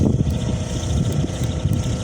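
Steady wind gusting over open water while out fishing, a broad rumbling roar with buffeting microphone noise and no pauses.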